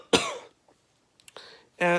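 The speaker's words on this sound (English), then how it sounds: "And I can't stop coughing." A single harsh cough bursts out, followed by small throat sounds and another rough, raspy cough fragment after a brief quiet pause.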